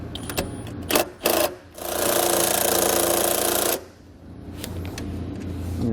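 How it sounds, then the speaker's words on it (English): 12mm socket on an extension removing a nut near a vehicle's emergency brake pedal, loud close rapid ratcheting or power-driven whir lasting about two seconds after a few short clicks and clunks. "I'm going to be using an extension and a 12mm socket to pull that nut off"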